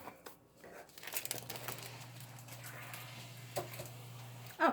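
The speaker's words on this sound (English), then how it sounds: "that's the sump pump, if you can hear that" A low, steady sump pump motor hum drones in the background for a few seconds, accompanied by paper crinkling and rustling up close.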